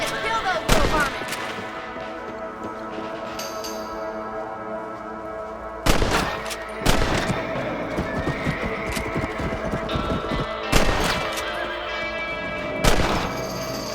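Rifle shots in Red Dead Redemption while hunting rabbits on a ranch, four loud sharp cracks spaced a few seconds apart, each echoing over a steady bed of game ambience and music.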